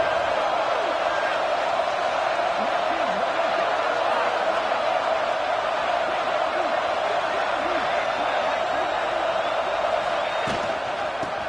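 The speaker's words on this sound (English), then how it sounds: "This crowd is trying to inspire this defense to make a big red zone stop." Stadium crowd noise at a football game as the home defense tries to make a red zone stop, a steady loud roar of massed voices with scattered shouts, sustained without break, while a commentator talks over it.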